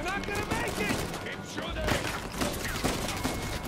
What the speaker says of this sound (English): Shooting him with a shotgun